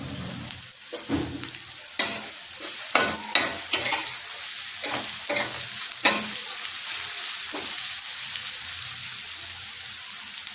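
Asafoetida dropped into hot oil while frying dried fish, giving a steady close sizzle with sharp crackling bursts and stirring scrapes, no voices.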